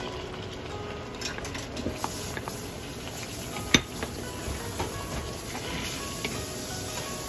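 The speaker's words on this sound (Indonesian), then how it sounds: "Nah, ini kita masukkan sardennya yang kita buat pakai rice cooker." Homemade boneless sardines made in a rice cooker are tipped into a pan and stirred, giving faint scraping and light clinks over a low sizzle, with a few soft spoon knocks spread across it.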